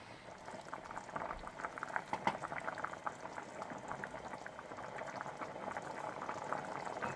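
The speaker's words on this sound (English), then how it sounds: "And let it boil for about 10 to 11 minutes." A pot of water with pasta in it boils steadily with a constant bubbling roil, close and moderately loud, with no voices.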